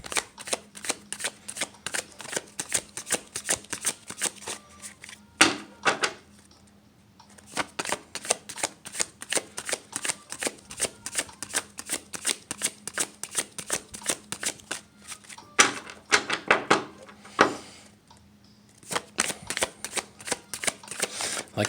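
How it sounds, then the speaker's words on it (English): Large tarot cards shuffled by hand in steady, close, crisp riffling bursts, broken by a few brief pauses, with no talking. "the universe just wants my fingers to touch every card first, and then it's going to pull one out"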